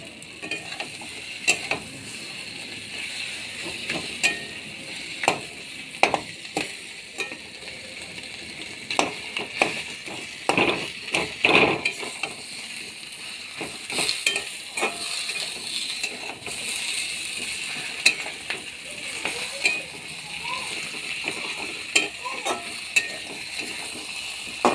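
Fish heads sizzle steadily in hot oil in a pan while being cooked for Bengali banana flower muri ghonto, with scraping stirs and small crackles throughout and no talking.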